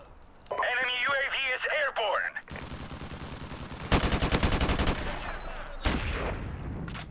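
An AK rifle fires a rapid burst of loud, close automatic shots in Call of Duty: Modern Warfare Remastered. A voice speaks before the burst, and more scattered game sounds follow.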